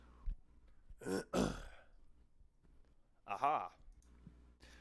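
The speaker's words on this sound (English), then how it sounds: "Me clearing my throat and saying aha." Someone clears their throat with a rough, rasping burst, then after a pause makes another short throaty vocal sound, close and fairly quiet.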